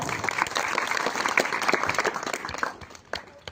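Audience applause at a school SSC well-wishing ceremony in a village, steady dense clapping from a crowd throughout, thinning slightly toward the end.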